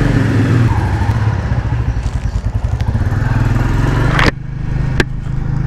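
A Royal Enfield Bullet 350 motorcycle rides along a road, its single-cylinder engine thumping loud and steady up close under strong wind rush, with a couple of sharp knocks near the end.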